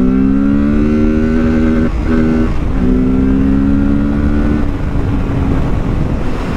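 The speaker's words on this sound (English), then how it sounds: "Let's give it a little go here" A 2024 Kawasaki Z650 motorcycle accelerates on the road, its loud engine climbing in pitch through a gear change, with wind rushing over the microphone throughout.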